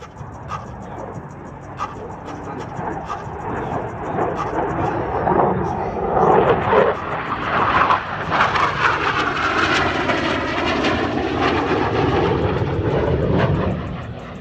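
An F-16 fighter flies a knife-edge pass at an air show, its engine roar swelling loud and broad as it sweeps close by from the right, then holding a sustained, rumbling thunder.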